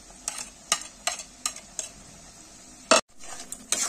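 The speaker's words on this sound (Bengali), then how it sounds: "এবার আমি সব মশলাগুলো দিয়ে কষিয়ে নিয়েছি।" Turmeric, chili, coriander powder and salt for chicken curry get fried and stirred in a pan: soft sizzling under a series of sharp spoon scrapes and clinks against the metal, one louder clatter near the end.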